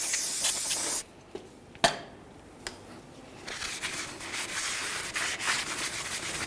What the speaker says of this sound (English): let's clean up the backside of our brake rotor